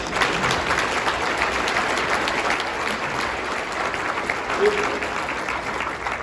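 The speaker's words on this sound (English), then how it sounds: "If you can please join me in giving them a round of applause." Audience applause for volunteer Chamber of Commerce board members at a Guelph State of the City address in 2025, a steady, dense clapping from a large crowd lasting throughout with faint crowd murmur underneath.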